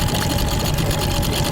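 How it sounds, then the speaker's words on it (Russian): A Tohatsu two-stroke outboard motor runs at a steady idle, a continuous close buzzing drone with a metallic rattle and no breaks. "Мотор работает достаточно ровно, ну как Тохатсу так вот дребезжит, как обычно Тохатсу дребезжит."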